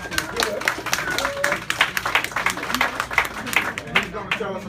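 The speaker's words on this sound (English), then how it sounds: "So definitely give a hand clap if the Councilman is good." An audience at a café community gathering claps for a councilman, a short round of brisk hand clapping with scattered individual claps and some chatter mixed in.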